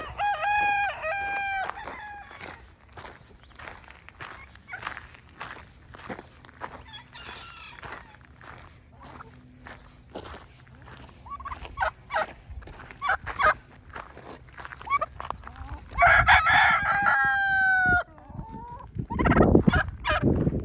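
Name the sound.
chickens crowing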